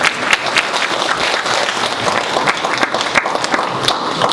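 An audience at a forum on walking and welfare bursts into dense, sustained applause, many hands clapping close and loud throughout with no pauses.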